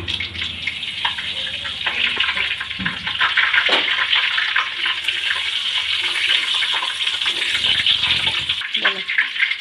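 Cumin seeds and bay leaf sizzling in hot oil for Bengali chilli chicken, a loud, steady crackling hiss that runs without a break and rises slightly partway through.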